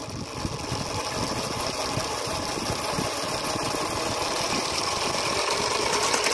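A homemade gear cycle fitted with a motorbike gearbox runs in fourth gear, its small engine giving a steady, rough mechanical drone with knocking vibration at a moderate distance, continuous throughout.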